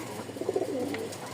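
A pigeon offered for sale in Mirpur, Dhaka, gives a soft, low coo, faint and close, against a quiet background.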